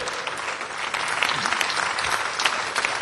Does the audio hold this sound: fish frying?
no